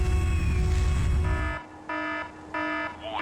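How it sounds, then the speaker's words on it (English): Alarms blare in Warhammer 40K Fire Warrior: a steady electronic tone gives way to three repeating pulsed beeps, loud and close, with no talking. "A lot of levels will just have these alarms blaring half the time."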